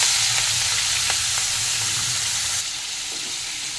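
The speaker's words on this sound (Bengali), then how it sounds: "তেল গরম হয়ে গেছে, এবার চিংড়ি মাছগুলোকে দিয়ে দিচ্ছি।" Prawns frying in hot mustard oil in a kitchen pan, a steady close sizzle and crackle with a few sharp pops, easing slightly partway through, with no talking.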